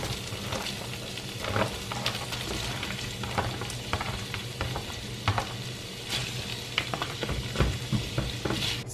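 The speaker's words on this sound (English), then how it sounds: "I'm letting my meat sauce heat up a little bit" Meat sauce bubbles and sizzles in a pan on the stove, a steady close crackle with scattered pops and spits, no voices.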